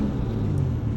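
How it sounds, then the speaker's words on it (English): Engine of a Nissan Cedric making more than 300 horsepower, a brief, loud, low rumble from close range as the throttle is pressed. "just stomp on the gas a couple times"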